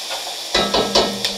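A knob of butter hits a hot pan holding steak and onion, bursting into loud sizzling with several quick scraping stirs in a short, close burst.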